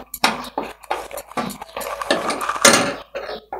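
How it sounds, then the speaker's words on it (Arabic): Egg white and a little pastry flour are stirred in a bowl, a spoon clinking and scraping against the sides in irregular bursts, close and fairly loud. "وهبدا اقلب كويس جدا لما يبقى معايا قوامه كريمي"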